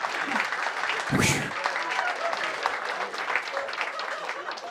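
Stand-up comedy audience applauding steadily throughout, a dense sustained clatter of many hands with a brief loud burst near the start, while a voice talks over it.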